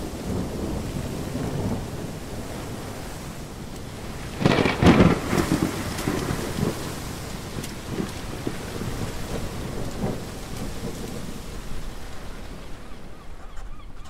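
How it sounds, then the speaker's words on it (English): A staged radio-drama thunderstorm: steady rain hisses throughout while a loud thunderclap bursts midway and fades into rolling rumbles, with no voices. "There is a storm on the horizon."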